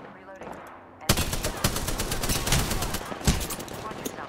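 Rapid automatic gunfire from the video game Apex Legends, dense bursts of shots starting after a quiet second and continuing loud and sustained, with sharp individual cracks standing out.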